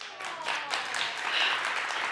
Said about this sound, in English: Clap a little louder, everybody